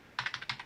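A quick burst of about seven crisp computer keyboard key clicks in a steady rhythm, close and fairly quiet, with nothing else audible.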